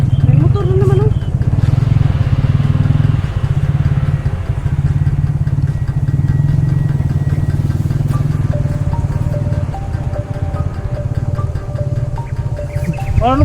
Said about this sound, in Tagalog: May motor na naman oh